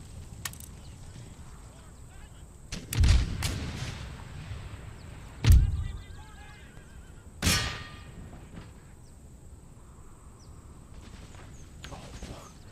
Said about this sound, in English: They got 24-pounder howitzers.